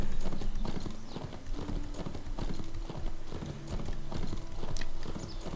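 Horse hooves clip-clop steadily and evenly in a horse-riding video game. A looping game soundtrack plays underneath.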